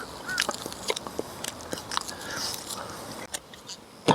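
Raw matsutake mushroom being bitten and chewed up close, soft crunchy bites and moist chewing in quiet, short bursts with small pauses, no talking.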